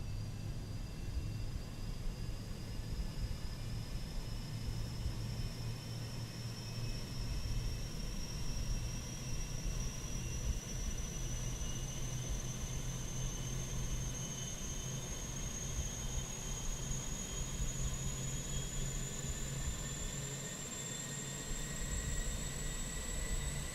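An Airbus A320 auxiliary power unit spools up in a flight simulator game: a steady whine climbing slowly in pitch over a constant low rumble, clear and unbroken with no talk.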